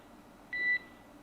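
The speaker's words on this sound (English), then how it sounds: "There is a chance that we get a lot of alarms" A single short electronic beep sounds inside a SpaceX Dragon capsule, a clean high tone lasting about a quarter second over a faint background hiss.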